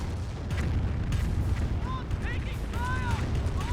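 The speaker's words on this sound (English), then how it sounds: "Barrage in the last known location of the Pack 38." An artillery barrage lands in the Company of Heroes real-time strategy game with a continuous rumbling roll of booms and crackles. A commentator's voice talks steadily over the bombardment throughout.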